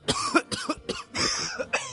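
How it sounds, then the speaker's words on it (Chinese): An elderly man lying in bed bursts into harsh, severe coughing, several rapid hacking coughs in a row, close and fairly loud with short gasps between them. "剧烈咳嗽声再次传来"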